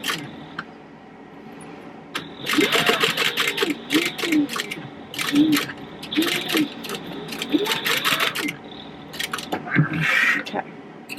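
A sewing machine back stitching fabric for a wallet, running in several short bursts of fast clattering needle strikes that stop and start in a back-and-forth rhythm, close and clear, with a voice speaking briefly between runs.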